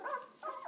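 A young puppy gives two short, soft whimpering yips close by, quiet and high-pitched, separated by a brief pause.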